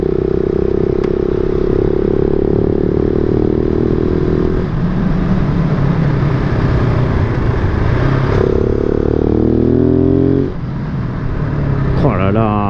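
A supermoto motorcycle slowing hard under braking, its loud, close engine note stepping down in pitch in stages, with a voice talking over the continuous roar.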